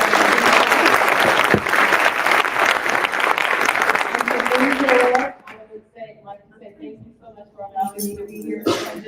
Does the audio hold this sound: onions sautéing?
no